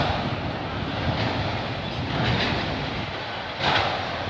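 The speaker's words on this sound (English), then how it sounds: "Oh, is that a GO train?" A GO commuter train rolls past in Burlington, Ontario, a loud, steady rumble and rattle of rail cars with wheel clatter that swells slightly toward the end, heard close with no talking.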